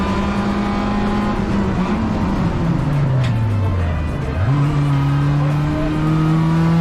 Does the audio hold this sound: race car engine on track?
yes